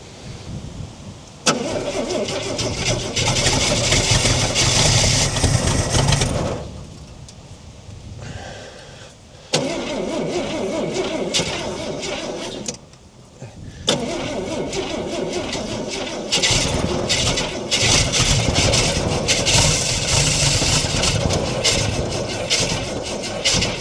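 A 1968 Ford Falcon six-cylinder engine, left parked since 1990, cranks and catches, then runs loud and rough with uneven revs, stumbling and dropping out twice before picking back up and running on steadily.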